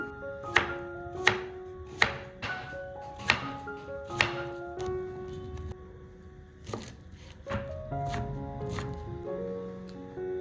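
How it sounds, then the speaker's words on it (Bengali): Knife chopping through a banana flower on a board at home, a run of sharp, evenly spaced cuts in the first half, then sparser chops over a softer rustle of handled pieces. "তো দেখেই নিলে কিভাবে মোচা কাটতে হয়"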